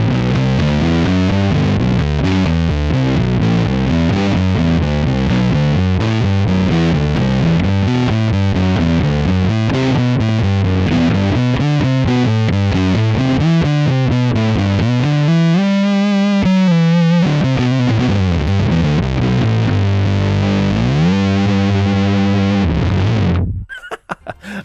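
Bass guitar through a heavy distortion effect plays a gritty, aggressive riff with bending, sliding notes, loud and continuous for about twenty seconds before cutting off abruptly.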